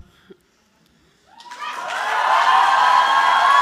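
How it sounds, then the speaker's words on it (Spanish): Classmates applaud at a graduation ceremony, the clapping swelling from quiet to a sustained, dense wash of applause from a crowd, with faint cheering mixed in. "Los compañeros de promoción la han aplaudido"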